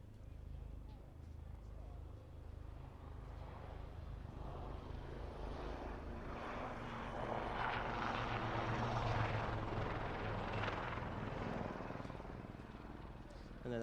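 Aircraft roll in for a cross at the RAF Waddington airshow, a broad engine roar that swells louder midway and stays heavy, with a voice talking over it throughout.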